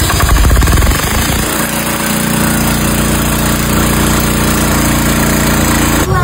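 A new engine machine is test-run close by, first knocking hard and rapidly, then settling into a loud, steady running drone with a persistent vibration and no voices.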